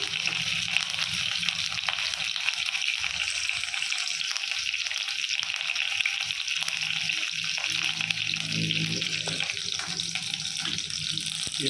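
Curry leaves fry in about three tablespoons of hot groundnut oil in a kadai, giving a steady, loud, broadband hiss and crackle that runs unbroken throughout with no talk.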